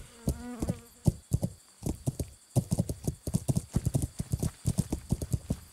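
Hooves of a horse clip-clopping along a path in the medieval video game Kingdom Come: Deliverance, a brisk, steady run of close hoofbeats with a brief whinny near the start.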